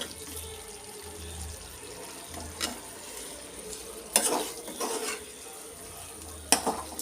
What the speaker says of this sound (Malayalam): നന്നായിട്ട് ഇളക്കി അരപ്പെല്ലാം അതിലേക്ക് ചേർത്തുകൊണ്ടിരിക്കുകയാണേ